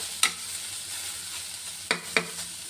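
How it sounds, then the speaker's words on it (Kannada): Carrots and grated coconut fry in ghee over a low flame, a steady soft sizzle broken by a few sharp clinks of a spoon stirring against the pan. "ತುಪ್ಪದಲ್ಲಿ ನಾವು ಕ್ಯಾರೆಟ್ ಹುರಿತಾ ಇದ್ದರೆ"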